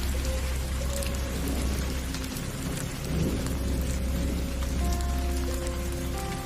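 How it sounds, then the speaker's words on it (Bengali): A heavy downpour drums down steadily in a village, loud and unbroken, with a low rumble of thunder underneath. "তখনই মুষলধারে বৃষ্টি শুরু হয়"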